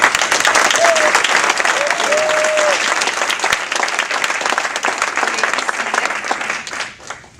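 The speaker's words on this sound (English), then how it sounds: "Let's give these officers a round of applause." Sustained audience applause fills the hall at a Women's Council of Realtors officer installation ceremony, dense clapping holding steady for about seven seconds before tapering off, with a few faint voices and whistles mixed in.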